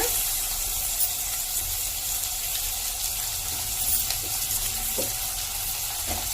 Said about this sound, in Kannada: ಇವಾಗ ಈರುಳ್ಳಿ ಚೆನ್ನಾಗಿ ಫ್ರೈ ಹಾಕಬೇಕು